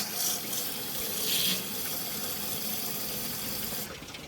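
Water rushes steadily from a hose as it flushes the coolant system of a 1980 Cadillac Coupe Deville, a continuous close hiss that briefly swells and then drops away near the end.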